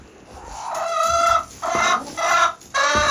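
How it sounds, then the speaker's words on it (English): A small rooster with a big comb crows several times in close, loud bursts, each call a strained, rising-and-falling crow with brief pauses between, heard alone with no talking. "Yeah, little rooster, yes."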